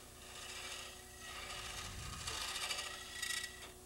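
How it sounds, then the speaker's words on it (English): Steady rasping scrape of a tool working wood into a rounded shape, continuous and fairly quiet with a few louder strokes near the end. "I'm just doing a little bit of scraping here, trying to get a somewhat a round shape."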